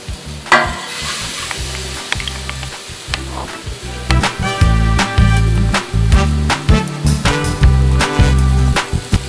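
Fish sizzles loudly in hot oil for a village-style fish curry, with a continuous crackling fry broken by repeated clanks and scraping of stirring and turning the pieces.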